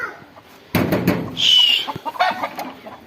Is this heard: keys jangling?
no